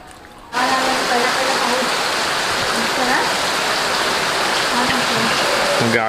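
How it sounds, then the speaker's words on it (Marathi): Steady heavy monsoon rain pours down in a village in Ambavali, Mandangad, a dense continuous hiss that swells in after a quieter half-second opening and holds loud throughout, with faint low tonal sounds beneath. "गावी आलं की पहिला पाऊस."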